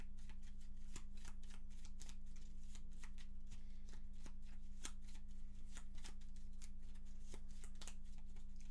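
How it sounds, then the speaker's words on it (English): Gloomhaven board game cards being shuffled by hand, a steady run of crisp riffling snaps and flutters close by, continuing without pause over a low steady hum. "I did not remember to shuffle, so let's fix that."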